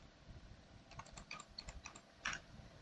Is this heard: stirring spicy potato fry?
no